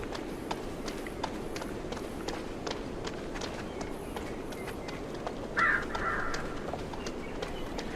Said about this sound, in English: I like the kind of ambient sounds with the birds and whatnot.